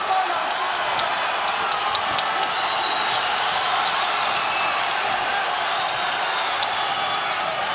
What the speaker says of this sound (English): The crowd will just show you just how good this fight was